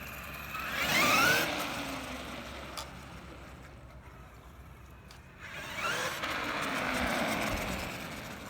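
A brushless Traxxas Summit RC truck drives past twice in the dark, its electric motor whine rising loudly as it nears, fading to quiet between passes, then swelling again.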